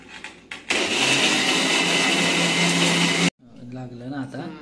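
Mixer grinder blending hard jaggery with water, roaring loud and steady for a few seconds before cutting off abruptly, with voices talking briefly before it starts and again after it stops.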